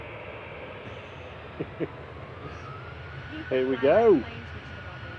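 A distant airliner departs Manchester Airport for Dublin as flight 203, its engine roar a faint, steady rumble under a brief spoken remark from a nearby person.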